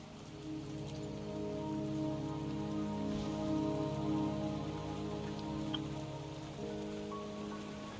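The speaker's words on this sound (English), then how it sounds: "Don't worry, the rain won't last much longer." Steady in-game rain in Wuthering Waves, pattering evenly on surfaces throughout, with a low tonal ambient hum underneath and no talking.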